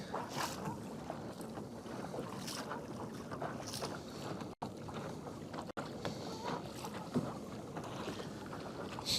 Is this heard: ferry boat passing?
yes